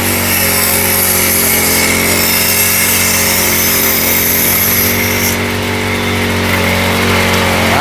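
A motorized brush cutter running close by, a loud continuous whining engine drone with slight shifts in pitch that holds steady and unbroken the whole time.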